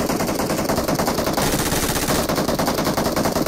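Rapid automatic gunfire from a battle royale video game, dense and continuous bursts filling the whole stretch at steady loud level, no voices over it.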